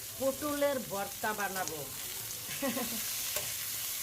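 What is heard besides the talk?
pointed gourd frying in mustard oil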